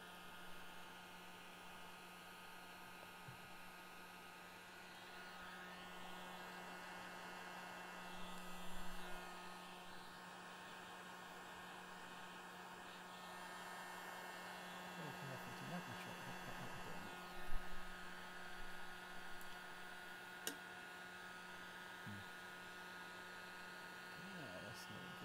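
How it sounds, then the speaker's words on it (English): A heat gun blows with a steady, airy whoosh and a constant hum while it melts parts on a workbench. A few faint knocks and shifts come through, with no clear speech. "on the workbench with a heat gun, like what I'm about to do now"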